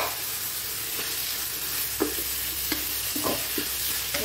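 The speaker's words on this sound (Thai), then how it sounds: "ใส่พริกลงไปแล้วผัดให้มันหอมค่ะผัดให้หอมใส่หมูสับลงไปก่อนแล้วกันเนาะ" Chili and minced pork sizzle steadily in a hot pan for a Thai basil pork stir-fry, with sharp intermittent scrapes and clinks of a spatula stirring through the frying. No voices are heard.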